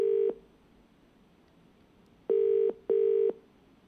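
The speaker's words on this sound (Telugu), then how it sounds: "రింగ్ అవుతోంది." A phone ringback tone sounds while a call to a TDP leader connects: one steady electronic tone at the start, a pause, then two more tones close together, clear and alone with no talk.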